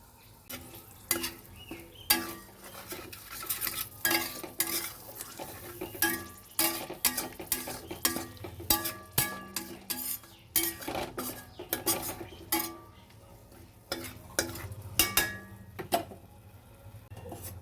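Whole spices for a prawn malai curry tempering (cinnamon, cardamom, bay leaf, dried red chilli and cloves) pop and crackle in hot oil. Sharp irregular snaps and utensil clinks sound over a low sizzle, without speech.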